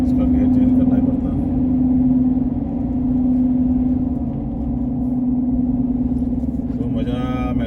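A manual car drives through a long tunnel in Auckland, giving a steady, close, droning engine hum with a constant low tone that echoes evenly throughout.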